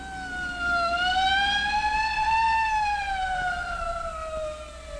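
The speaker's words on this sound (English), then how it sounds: "Hey, a police car." A single long wailing police car siren rises and slowly falls in pitch, steady and moderately loud, with no talking.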